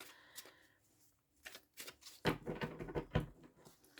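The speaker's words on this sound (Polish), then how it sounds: "Karty potasowałam." Tarot cards are shuffled close up in a quiet room, a soft riffling patter in several quick bursts that grows denser and louder toward the end.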